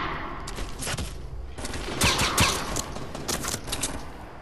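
Rapid bursts of gunfire from a Fortnite match during a Fortnitemares event, dense volleys of shots cracking in clusters with a louder flurry midway through, continuous and close with no talk.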